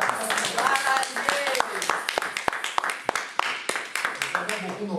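A church congregation claps in praise during a French-language service, rhythmic sharp claps layered over voices and music, fairly loud and close.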